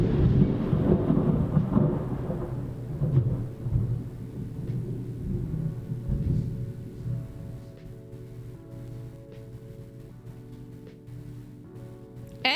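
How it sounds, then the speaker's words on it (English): Thunder rolling during a thunderstorm with rain, a loud deep rumble that swells and slowly fades over several seconds, ending in a softer hiss with a faint tone near the end. "Ooh, nice thunder."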